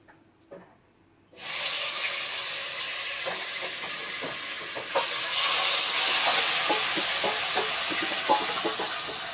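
Chicken pieces sizzle steadily in hot oil for a biryani, a loud continuous hiss that starts abruptly after a brief quiet moment, with faint scraping and stirring clicks throughout.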